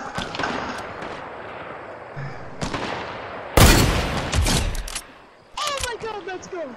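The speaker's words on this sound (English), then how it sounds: "There's just people shooting from every distance." Rapid gunfire from a multiplayer shooter video game, bursts of shots at varied distances with one loud close volley, under excited player voices talking.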